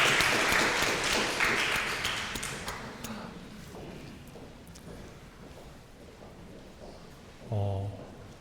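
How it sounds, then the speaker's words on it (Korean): A church congregation claps together, loud at first and then thinning to scattered claps as it fades out over several seconds, before a short burst of speech near the end. "하나님께 영광의 박수를 올려드립니다."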